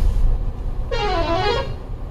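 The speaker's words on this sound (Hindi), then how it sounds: "देखो गाइस क्या ट्रैफिक है।" A clear horn honk blares for about a second over the steady rumble of heavy road traffic during a night-time highway drive in India, near and loud above the background engine noise.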